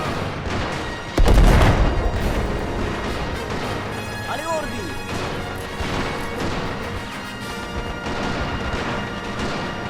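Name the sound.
grenade explosion in video game mod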